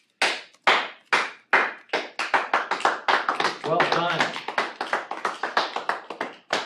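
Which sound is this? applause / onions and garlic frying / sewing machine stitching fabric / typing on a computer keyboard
applause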